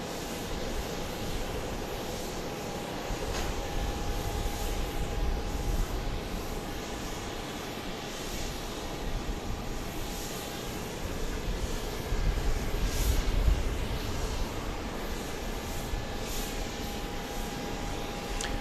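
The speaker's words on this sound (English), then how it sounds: "that was flight 3934 off to Oakland, 737-800" Southwest Boeing 737-800 jet taking off at night from Dallas Love Field, a steady broad roar heard from a distance that holds through the whole stretch and swells slightly in the middle.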